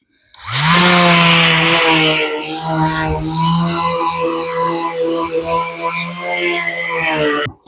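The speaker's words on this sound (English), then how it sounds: "And now back to my least favourite job, sanding" A power sander whines loudly and steadily up close, its motor pitch wavering slightly as it sands wood for several seconds during a camper conversion.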